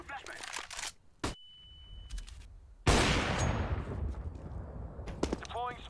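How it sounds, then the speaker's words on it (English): A flashbang grenade goes off in the video game CSGO, landing as a sudden loud broadband burst with a hiss trailing behind it, set among clicks, a brief tone and other game effects, and voices talk nearby. "I'm throwing a flashbang."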